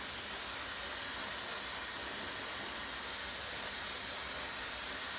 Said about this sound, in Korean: 청소기 아니야. 머리 말리고 있어. 머리 드라이기.